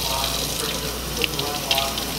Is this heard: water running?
yes